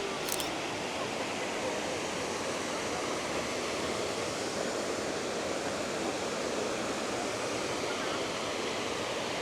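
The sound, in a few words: waterfall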